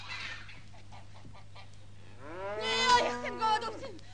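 Cows moo on a farm, a single drawn-out, loud low call rising and falling near the end, after a quieter stretch with faint distant animal sounds.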